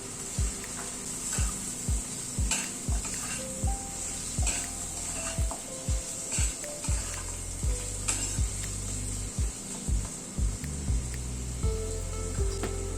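Carrots and other vegetables go into spices sizzling in a pan, giving a steady low frying hiss under a run of repeated wooden stirring knocks and scrapes at an even pace, fairly quiet and close, with no voices.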